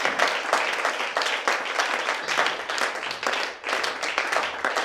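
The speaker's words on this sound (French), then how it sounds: "Acclamons très fort." A church congregation applauds loudly and continuously, dense clapping filling the space for several seconds with only a brief dip near the end.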